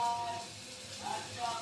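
Onions sizzle softly as they fry in a pan, a quiet steady crackle over about two seconds.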